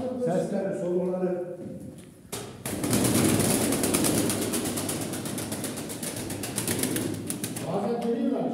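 Pigeons flutter and flap their wings in a loud, sustained burst of close wingbeats, with someone talking before and after it.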